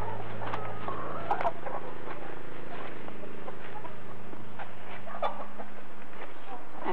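Chickens on a farm cluck and murmur continuously nearby, with scattered sharper clucks over a steady low background hum and a few faint knocks.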